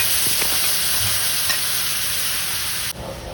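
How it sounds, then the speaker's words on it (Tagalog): Tofu poured into a pan of wilted sautéed onion and tomato sizzles in a steady, close frying hiss with faint stirring clicks, then drops abruptly quieter near the end. "At kapag nalanta na ang sibuyas at kamatis, ibuhos na natin kagad ang tahore"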